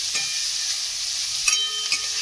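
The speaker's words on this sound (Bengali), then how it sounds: "এবার নাড়াচাড়া করে আমি একটু ব্রাউন কালার করে নেব" Chopped onions sizzle steadily in hot oil while a utensil stirs them in the pan, close and constant, with a few sharper scrapes.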